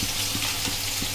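Tengra fish fry in oil in a pan, giving a close, continuous sizzle with small bubbling pops, brief and fairly loud, with no voices.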